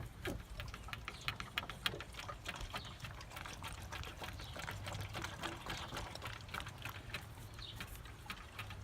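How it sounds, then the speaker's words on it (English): Air bubbles gurgling inside a squeezed truck coolant hose near the water pump, a faint, dense run of small crackling pops and bubbling clicks throughout, close up with no talking. "if you squeeze this and you hear some like air bubbles, that means you have air in your system."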